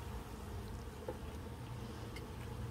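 Honeybees at a hive built in a wine barrel, a faint steady buzzing drone blended into a low outdoor background hum, with a couple of brief louder passes.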